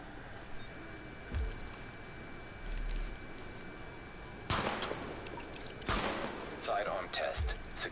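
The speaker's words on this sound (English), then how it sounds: "Open fire at the highlighted targets." Sidearm gunfire at highlighted targets in The Division video game, a few sharp shots breaking out amid a steady background hum, with spoken voice lines heard in the clip.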